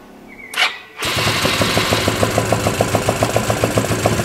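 An untuned scooter engine with an open air filter is started with the ignition key after standing for days; a brief whirr precedes the catch, then a near, loud, rough idle pulses steadily with rhythmic popping beats.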